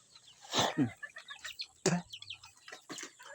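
Nearby chicken clucks and short calls, a few scattered notes over a quiet outdoor background.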